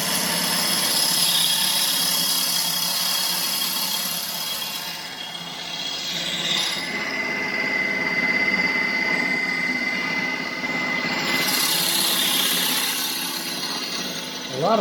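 A segmented wooden bowl spins on a lathe as it is shaped, with a steady motor hum and a sustained scraping, hissing cut that swells and fades as the tool meets the wood.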